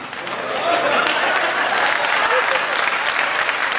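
An audience at a Hindi comic poetry gathering breaks into applause, sustained crowd clapping that swells in the first half second and stays full and close throughout.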